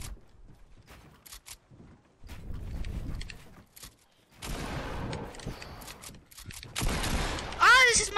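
Gunfire from a Fortnite match: rapid bursts of shots in clusters across the clip, fairly loud, alongside game effects and a tonal chirp near the end.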